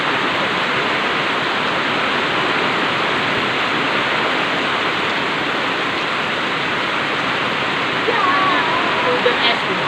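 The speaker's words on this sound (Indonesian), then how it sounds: "hujan es nih bang, tengok tuh esnya" Hail pours down in strong wind in Bener Meriah, Aceh, a loud, dense, unbroken roar of ice hitting surfaces, with faint voices near the end.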